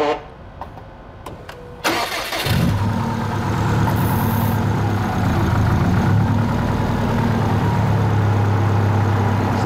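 A car engine cranks and starts after a few faint clicks, then settles into a loud, steady idle hum that runs on evenly to the end, with no talking.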